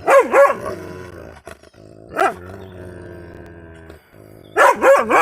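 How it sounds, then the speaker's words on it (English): A dog barks loudly and close in short bursts: a pair at the start, one in the middle, and another pair at the end, with gruff, growly tones. "And Axel's the one barking."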